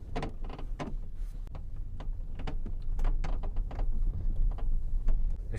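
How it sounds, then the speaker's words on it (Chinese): Middle sliding door of a Mercedes-Benz V260 van with a worn door check block, creaking and clicking in repeated irregular bursts over a bumpy road, close and fairly loud against steady rumbling road noise. "这车呀，颠簸路面，中门嘎吱嘎吱嘎吱，声音很大。"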